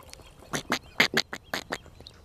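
Several ducks beside a carp fishing lake in England give a run of loud, close quacks, about eight sharp calls in two uneven bursts, with no one speaking.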